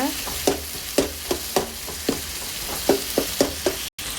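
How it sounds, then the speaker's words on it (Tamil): Tomatoes with turmeric and tamarind being mashed and fried in a pan for mint chutney: rhythmic spoon strikes and stirring scrapes over a steady close sizzle, with no talk. "இந்த தக்காளியெலாம் நல்லா மசிச்சு எடுத்துக்கோங்க"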